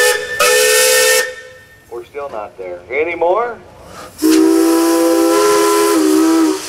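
A loud steam whistle on a 1912 Gaar-Scott double-cylinder steam traction engine blows twice, a short blast and then a longer sustained one, with brief talk between the two blasts.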